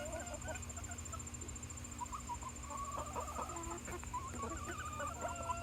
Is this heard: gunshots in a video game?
no